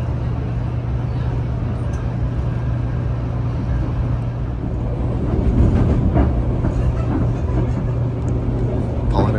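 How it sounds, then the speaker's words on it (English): SunRail commuter train riding through Central Florida, a constant low rumble and rolling clatter of the cabin at speed, steady throughout with a slight swell near the middle. "The train does reach speeds up to about 80 miles an hour."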